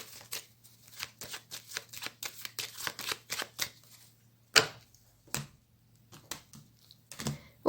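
Tarot cards being shuffled and cut, a rapid series of soft, close riffling flicks and taps followed by a few sharper separate snaps, quiet and with no talking.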